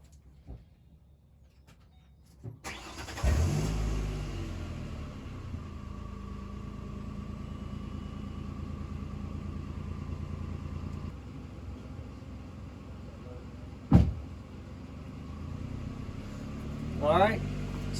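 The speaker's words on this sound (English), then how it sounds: "so my vehicle's revved to 2000" A car engine starts with a thud, then holds a steady, elevated hum at about 2000 rpm for a long stretch, with a couple of clunks and brief knocks.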